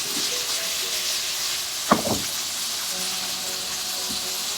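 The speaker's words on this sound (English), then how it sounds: "I just want to shallow fry it." Soft tinned jackfruit shallow frying with masala in a pan, a steady broad sizzle and hiss with a brief clatter of stirring partway through.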